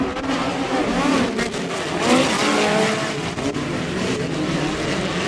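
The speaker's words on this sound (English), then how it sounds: "Kaiser Racing Wheels Heat Race number two will be brought to green by Phil Shapel and Paul Babbitt." Midget race cars roar off the start of a heat race at an outdoor raceway, a loud, sustained blend of many engines revving hard with tire noise, continuous and close.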